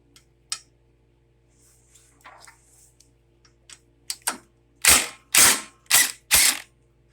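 Muffler bolts are loosened on the Briggs engine of a John Deere LA100 18.5-horsepower lawn tractor: four loud, sharp mechanical bursts close together near the end, after a few quieter clicks and taps.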